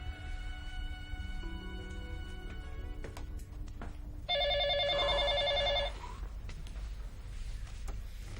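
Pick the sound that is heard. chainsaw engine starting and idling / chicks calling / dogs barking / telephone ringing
telephone ringing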